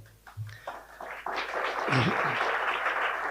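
An audience claps during a speech at a Ramakrishna Mission Ashrama gathering, a few scattered claps swelling into sustained, moderately loud applause.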